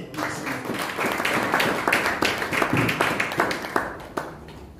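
A church congregation claps together, a dense run of hand claps in an irregular rhythm that rises quickly and carries on for several seconds before thinning out at the end.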